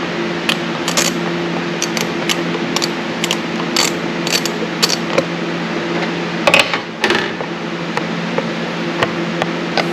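Ratchet clicks from an 8mm socket loosening an air intake clamp during a cold air intake install on a 2023 Dodge Durango SRT Hellcat, steady close clicking over a constant low hum.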